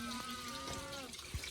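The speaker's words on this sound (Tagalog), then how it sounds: "Buksan mo yung tubig dyan para may tubig dyan." Water running from an opened tap into a small bucket, a steady close flow with tonal filling hum and a brief splash near the end.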